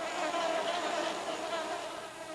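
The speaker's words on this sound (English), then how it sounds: "In the most heavily infested areas, the mosquito population is closely monitored." A swarm of mosquitoes fills the air with a continuous, dense high whine, steady and moderately faint throughout, with no voices over it.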